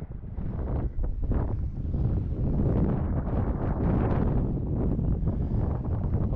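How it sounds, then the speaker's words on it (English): Strong wind gusting at a kiteboarding beach in Bermuda, a loud continuous rumbling roar buffeting the microphone with surging swells and no voices. "Right now it looks like the wind is picking up."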